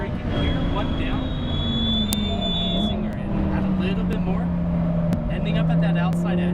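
A Lamborghini Huracan Performante driven on a track, its engine loud and close with pitch swinging up and down through acceleration and braking, while a person talks over it.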